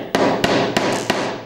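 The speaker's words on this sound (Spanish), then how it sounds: "golpeamos un poquito y vamos viendo cómo va introduciéndose el conector en el disco" Pliers tap a connector into a disc in four sharp, evenly spaced metallic knocks, close and loud, over a steady background hum.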